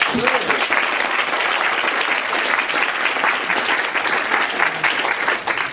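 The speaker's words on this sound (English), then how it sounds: "So let's give them a round of applause." Loud, sustained audience applause at a keynote address, a thick continuous roar of clapping hands that stays even from start to finish.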